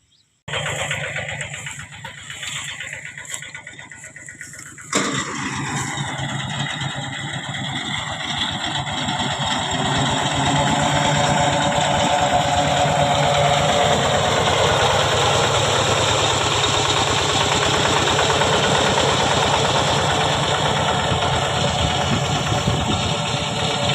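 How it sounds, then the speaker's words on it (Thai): A walk-behind tractor converted into a rice harvester runs in a paddy field, its small engine starting after a few seconds and settling into a loud, steady chugging drone close by. "เอารถเกี่ยวอันนี้คือรถเกี่ยวรถไถเดินตามเนาะ"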